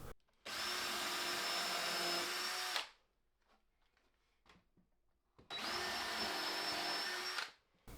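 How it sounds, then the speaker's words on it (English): A power drill fitted with a countersink bit spins up twice in short, steady whining bursts of about two to three seconds each. A near-silent pause separates them, with faint tool handling in the gap. "I love using a countersink drill bit"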